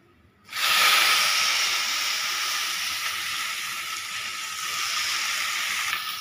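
Eggplant dropped into hot oil with golden garlic, chili and ginger paste bursts into a loud, sudden sizzle that settles into a steady, close hiss of frying lasting several seconds.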